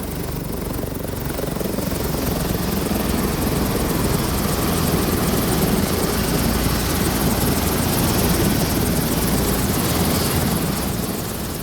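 Police helicopters stationed at Ibu Kota Nusantara ahead of the 17 August ceremony roar in a loud, steady, continuous drone of rotor and engine that holds near and unbroken throughout, with no voices.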